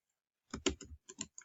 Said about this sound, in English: So that's what I'm going to type in here.